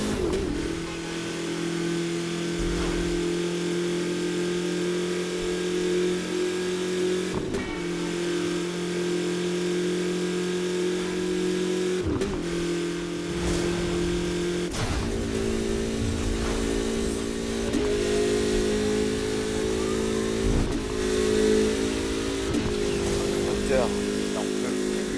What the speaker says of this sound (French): C'est les moteurs des années 60, ça.